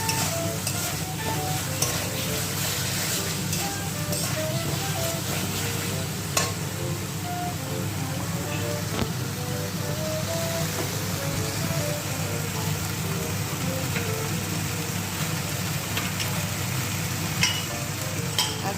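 Potatoes frying with spice paste in oil in a kadai make a continuous, fairly quiet sizzle, with occasional soft scrapes and taps from stirring.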